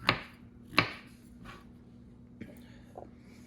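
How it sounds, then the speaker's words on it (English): Mushrooms being chopped with a knife for a Swiss beef and mushroom recipe: two sharp, close chops followed by a few softer, scattered cuts, heard alone over a low steady hum. "So I'm chopping the mushrooms for this recipe."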